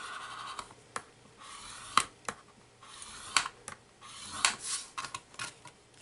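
Scoring a paper card with a tool to make a top-folding card: dry scratching and rubbing strokes, a series of short sharp scrapes with brief pauses, close and fairly quiet, with no talking.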